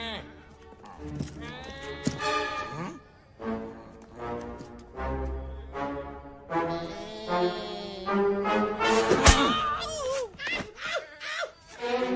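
Voices imitate goat bleats in a Pakistani animated story, giving loud, wavering nasal cries one after another, with talk around them.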